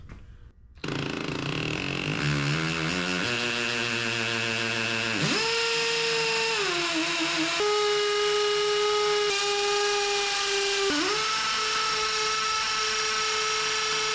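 A power drill bores a pilot hole to mark a location, whining up through several speed steps before settling into a steady high-pitched drone, loud and close.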